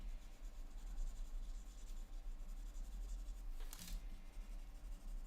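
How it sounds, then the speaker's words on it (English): Pencil sketching a drawing with steady, soft scratching strokes against low background noise, and a brief brighter scrape near the end. No one speaks. "This first one that we're sketching, I'm just gonna play with this"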